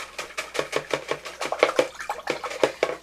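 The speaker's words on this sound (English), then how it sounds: "I'm going to rinse that out real well." A paintbrush is rinsed in water with rapid, rhythmic swishing and splashing. The strokes come in a steady series of close, fairly loud sloshes.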